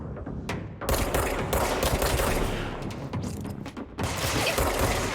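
Enemies firing weapons in the video game Control, a dense barrage of loud overlapping shots and mechanical clatter that keeps going, with a few short breaks.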